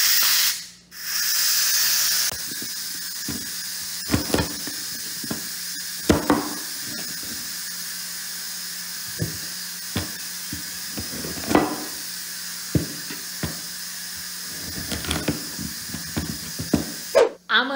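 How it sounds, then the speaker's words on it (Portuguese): An electric pressure cooker cooking beef ribs with cassava vents steam in a loud, steady hiss for about two seconds, then gives way to a low hum and scattered light knocks, like chopping, that carry on to the end. "Enquanto sai a pressão aqui"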